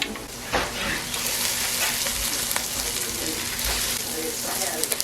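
Onions sizzling in olive oil in a pan while being stirred: a loud, close, continuous crackling fry with occasional scrapes and clacks, and speech faintly in the background.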